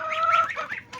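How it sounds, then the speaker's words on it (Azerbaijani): Ducks kept in a home garden give a quick run of raspy, nasal quacks, close and fairly clear, ending with one more short call. "Ördəklərim, bazlarım maşallah."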